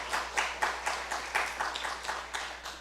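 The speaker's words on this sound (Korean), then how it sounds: "응원의 박수 부탁드리겠습니다" An indoor audience at a church gathering claps in encouragement, a soft, fairly distant patter of many hands with regular swells of applause throughout, no talking.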